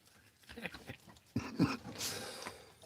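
Excited puppies whimpering and yipping close by, short bursts rising after a quieter start, with faint voices in the room.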